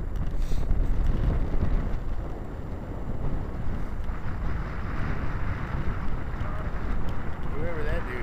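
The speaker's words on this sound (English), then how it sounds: "Sorry about the wind." Wind buffets a microphone outdoors in Oklahoma, a loud, steady rumbling roar that continues throughout with faint sounds beneath it.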